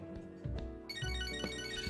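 A phone rings in the video game Catherine, a steady electronic ringtone with repeating bursts over faint background music and low thumps, heard alone without talk.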